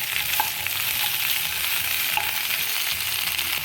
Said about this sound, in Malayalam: വെണ്ടയ്ക്ക ഇതിനകത്തോട്ട് ഇട്ടിട്ട് നന്നായിട്ട് സോട്ട് ചെയ്യണം. ഒരു മീഡിയം ഫ്ലെയിമിൽ വെച്ചിട്ട്